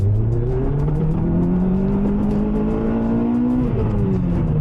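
Forgotten Toyota hot hatch accelerating at full throttle, a loud, close engine drone climbing steadily in pitch, briefly dropping as the gear changes, then pulling again.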